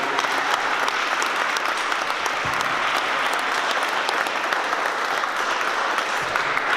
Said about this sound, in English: continue that round of applause for all my co-panelists